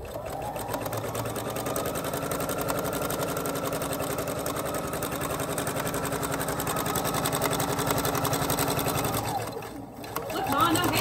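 A sewing machine stitches fabric for a sewing machine cover in one long, steady run of rapid mechanical whirring, then stops near the end. A voice is heard afterwards.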